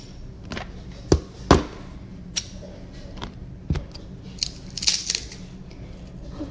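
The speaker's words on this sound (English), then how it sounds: "we're going to use our garlic press" An unpeeled garlic clove crushed in a handheld garlic press makes a few sharp metallic clicks and squeezes, spaced irregularly with two stronger snaps early on and lighter taps after, close up in a kitchen.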